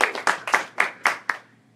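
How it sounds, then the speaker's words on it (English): A small audience at a student services Q&A session gives brief applause, about six distinct claps heard close and spaced out, fading quickly into quiet. "We can give them a round of applause"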